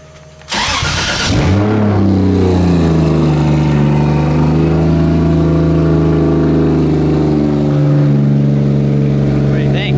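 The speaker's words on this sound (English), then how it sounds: "Now make sure it's in neutral. Ooh. And then start it up." A 2JZ-swapped 240SX drift car cranks and fires up, its engine catching abruptly and then settling into a loud, steady idle with light revs, close by, while people talk faintly around it.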